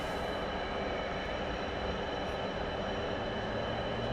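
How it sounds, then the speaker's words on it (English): MiG-29 jet engines spool up in a DCS flight simulator, a steady, dense roar and whine holding at even loudness throughout, with no talking. "Alright, firing up the engines."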